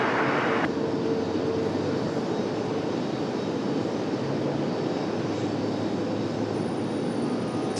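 Lufthansa Boeing 777 heavy jet on approach to land at Raleigh-Durham, a steady broadband engine roar holding at one level throughout, with no talk over it.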